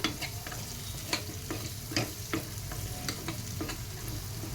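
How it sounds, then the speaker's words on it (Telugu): Onions frying in oil left over from frying prawns give a low, steady sizzle, with soft, irregular stirring taps and scrapes recurring through the clip and no voices. "ఆ ఆయిల్లోనే మనం రొయ్యలు తీసిన ఆయిల్లోనే ఇవి వేసేసి వేపుకుందాం"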